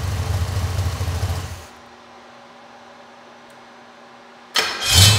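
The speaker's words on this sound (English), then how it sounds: "then we'll show them how easy it starts" A pump-gas 428/467 stroker V8 car engine with iron cylinder heads runs loudly, cuts off into near silence, then cranks and fires back up with a quick roar at the end.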